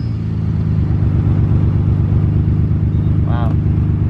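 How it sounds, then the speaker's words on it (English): A 1995 Nissan Skyline GT-R R33 engine idling loud and close, a deep steady burbling drone throughout with a brief higher chirp near the end. "keeping the engine running, because I love the way it sounds."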